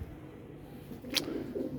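Pigeons in a home loft with cages coo faintly against a steady low background hum, soft and indistinct, with a brief brighter chirp partway through.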